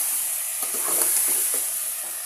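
Chicken sizzles in a pan with a steady, close hiss and a few soft stirring scrapes over it.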